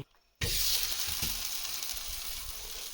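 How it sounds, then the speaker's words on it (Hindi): A spiced corn roti drops onto a hot tawa and a loud sizzle starts abruptly from quiet. The hiss then holds steady and close, with faint soft bumps underneath. "अब हम इसको तवे में डालेंगे"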